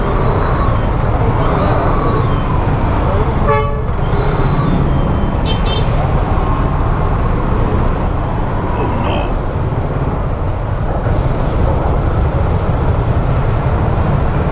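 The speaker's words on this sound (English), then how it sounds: "marami talaga traffic dito pag ganitong oras." City road traffic noise while out on a Yamaha NMAX 155 scooter: a loud, continuous roar of engines and tires with steady rumble throughout, close and dense, with no distinct pauses.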